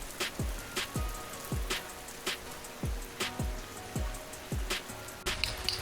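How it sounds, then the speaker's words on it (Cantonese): Heavy rain falls at a campground near Mount Fuji, pattering faintly and steadily while big drops strike a surface nearby in an irregular series of sharp taps. "今日落大雨。"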